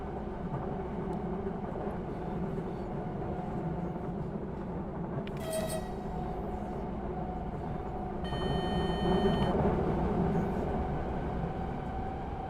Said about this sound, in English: this is like an Adelaide train going fast